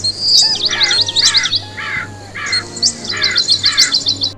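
Crows caw in short repeated bursts, mixed with high, quick chirping from other birds, loud and close.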